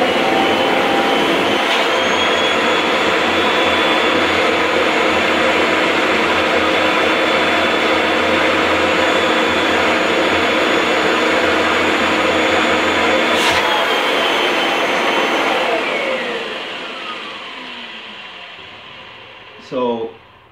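A Kirby vacuum cleaner runs loud and steady during a suction test, a constant whining roar with tonal hum that winds down after about fifteen seconds, followed by a short clunk near the end.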